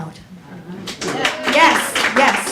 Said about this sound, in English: You should all applaud yourselves for coming out.